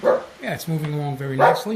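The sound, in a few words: dog barking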